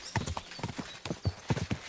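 Horse hooves clip-clopping in the Kingdom Come: Deliverance II video game, a brisk, steady rhythm of close, distinct hoof strikes on a steep path, with no talk over it.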